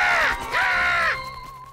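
A cartoon bird lets out a loud, harsh squawk in two drawn-out bursts, then one fading tone trails off at the end, with no voices present.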